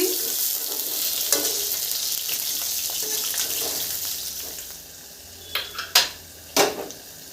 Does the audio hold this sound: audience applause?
no